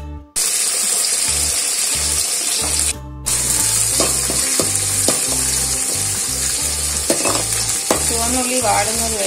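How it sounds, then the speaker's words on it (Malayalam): Shallots sauté in hot oil with mustard seeds and curry leaves for Kerala-style mutton varattiyathu, a loud steady sizzle broken by repeated scraping stirs and a brief gap near the start. "ചുവന്നുള്ളി വാടുന്നത് വരെ വഴറ്റി കൊടുക്കാം"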